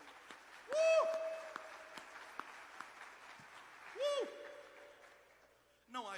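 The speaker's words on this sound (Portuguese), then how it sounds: "Vamos aplaudir nós dois." An audience at a church sermon applauds with a steady wash of clapping, joined by brief whistling tones and cheers.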